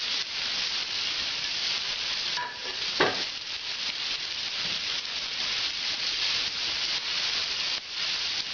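Red bell pepper, celery root, carrot and fennel fry in a pan with a steady, close sizzle, broken by the scrape and clatter of stirring.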